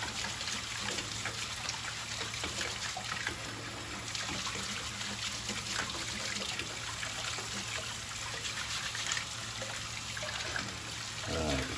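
Tap water runs steadily while a juicer part is rinsed and brushed under the stream, a continuous close splashing trickle lasting throughout with small shifts as the part moves.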